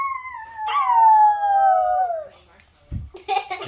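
A person's voice imitates a long dog howl, sliding slowly downward for about two seconds, followed by brief knocks and clatter in a kitchen.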